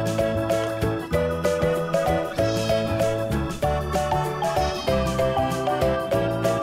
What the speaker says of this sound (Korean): cat, 고양이.